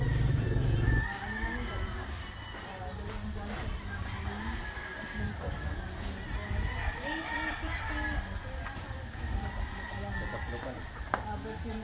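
Chickens and roosters clucking and crowing at the Firebird game farm, a dense chorus of fowl calls with a rooster crow rising over it, under steady speech and outdoor noise.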